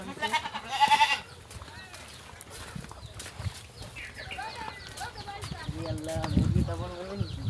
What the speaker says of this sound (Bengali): তো দেখেন এই যে দুইটা ছাগল